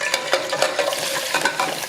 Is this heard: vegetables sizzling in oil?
yes